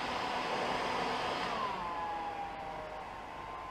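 A heat gun or hair dryer blows steadily while warming an inline skate boot for fitting, giving a constant airy whoosh whose tone dips slightly partway through, with no voices.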